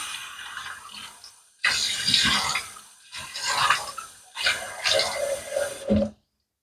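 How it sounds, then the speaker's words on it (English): Water splashes onto a face at a sink before a wet shave, coming in three close bursts of wet slapping and dripping separated by short pauses. "let me get water on the face"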